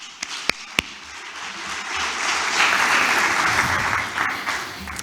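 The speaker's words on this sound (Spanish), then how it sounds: "Un aplauso para él." An audience applauds a speaker at an industry talk on ceramic products in industrialized construction, steady clapping that swells and holds for about five seconds, with a couple of sharp nearby claps standing out at the start.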